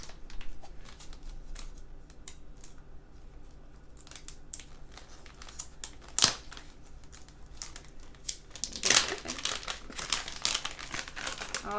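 Sparkly plastic bag from a Pipsticks sticker subscription package crinkles and rustles in close, irregular handling, with louder crackling bursts partway through and again near the end; no voices.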